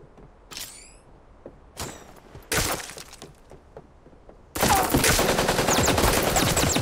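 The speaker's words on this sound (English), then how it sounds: "I hear gunfire" Video game gunfire from a space combat game: scattered single shots and short bursts early on, then a loud sustained barrage of rapid fire through the final seconds.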